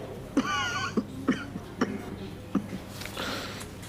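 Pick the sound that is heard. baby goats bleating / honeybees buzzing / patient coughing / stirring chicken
patient coughing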